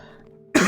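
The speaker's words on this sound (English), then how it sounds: "I shouldn't have been coughing directly to the mic." A man coughs once, sharply and loudly, right into a close microphone, a sudden burst after a moment of quiet low hum.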